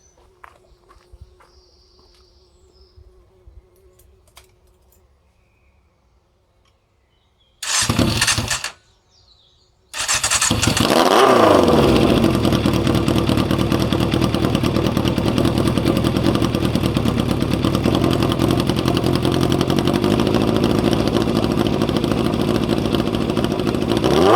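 A Yamaha Fazer 600 motorcycle fires after a brief crank, then settles into a loud, steady close idle and rev that runs to the end, preceded by faint shuffling.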